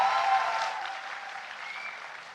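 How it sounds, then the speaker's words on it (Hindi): Sustained applause from an audience at a university convocation ceremony fills the hall, a dense wash of clapping that holds steady and tapers off slightly toward the end, with no talking over it. "इधर इधर भी बजाइए ताली, जोर से बजाइए ताली"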